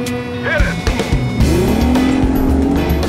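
Evinrude outboard racing boat engines roar and climb in pitch as they accelerate hard from a race start, a loud, rising whine building over a rumbling background.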